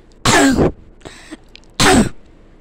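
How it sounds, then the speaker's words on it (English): Two loud, harsh coughs close to the listener, separated by a short pause with a faint rustle between them. "I just started coughing, like, really loud."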